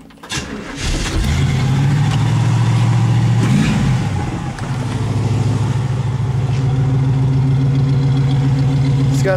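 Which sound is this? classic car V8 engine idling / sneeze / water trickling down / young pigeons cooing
classic car V8 engine idling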